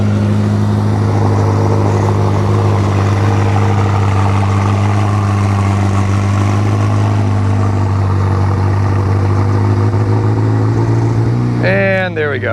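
A modified Acura NSX idling at about 1,000 RPM with its exhaust valves open, a loud, steady, deep droning rumble that holds constant, with a brief higher chirp at the very end.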